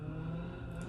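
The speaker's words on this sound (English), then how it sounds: "Can you hear them revving up their snowmobiles?" Snowmobiles revving outside in cold winter weather, a faint, steady engine drone carried from a distance, heard indoors.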